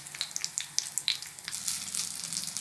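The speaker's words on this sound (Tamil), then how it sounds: "கடுகும் உளுந்த பொரிஞ்சு வந்த பிறகு ஃப்ரெஷ்ஷான கருவேப்பிலை கொஞ்சமாக சேர்த்துக்கிறேன்." Mustard seeds, urad dal and curry leaves crackling and sizzling in hot oil for a ridge gourd chutney tempering, with sharp pops early that settle into a steady close hiss.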